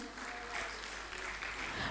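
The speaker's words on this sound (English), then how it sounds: "Can we have a round of applause?" An audience applauds at an award ceremony and coffee table book launch, a dense, steady wash of clapping from a crowd that holds throughout with a voice faintly underneath.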